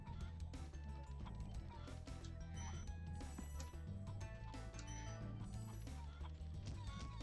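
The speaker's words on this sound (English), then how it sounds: "They make sounds like chickens" Chicken-like clucking from creatures in Spyro the Dragon on PS1, repeated squawky fowl calls over game music and clinking effects, moderately loud and busy throughout.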